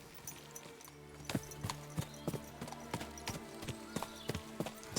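Horse hooves clip-clop steadily in an even trotting rhythm while riding along a road in Kingdom Come: Deliverance 2, close and fairly loud over a low ambient hum with no talk.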